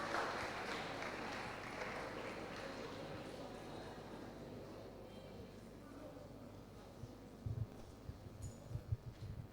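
Crowd applause fills a university international Model United Nations closing plenary, a dense, steady patter of many hands across the hall, with voices mixed in and a few louder bursts near the end.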